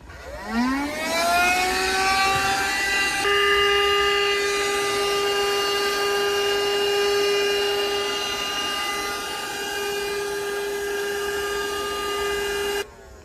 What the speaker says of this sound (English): Now turn on this blower.